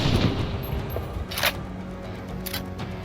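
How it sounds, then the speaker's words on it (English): An 1874 rifle firing a 50-90 bullet in the video game Stalker Zona lets off sharp, loud gunshot cracks, a couple of distinct blasts spaced about a second apart over steady low background rumble. "This thing shoots a 50-90 grain bullet."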